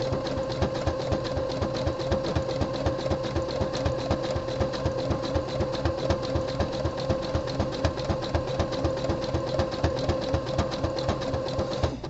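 Sewing machine attaching a black jock pouch to the body of a sportbrief, running steadily with an even, rapid chugging pulse throughout, close and moderately loud.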